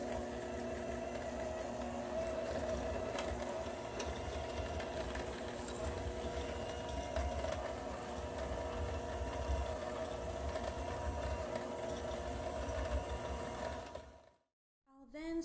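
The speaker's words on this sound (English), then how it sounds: "And then I'm adding the butter, and I'll mix the two together until the mixture is fluffy." An electric mixer creams sugar and butter together in a bowl for scones, a steady whirring motor hum running nearly continuously before cutting off abruptly at the end.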